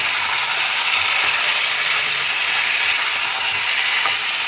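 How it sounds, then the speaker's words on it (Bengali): Mutton sautéed with ground spices in a pan gives a steady bright sizzle and fry hiss, with faint scraping clicks from stirring now and then. "এবার মাংসটার সাথে মশলা দিয়ে এবার পুরোটাকে ভালো করে কষবো।"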